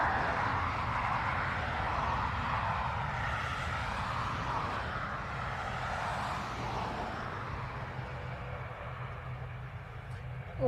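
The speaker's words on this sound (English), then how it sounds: "This is our Donegal ATR, I believe." An ATR turboprop airliner at Dublin Airport gives a steady, broad engine roar that holds constant throughout, fairly loud against the open airfield.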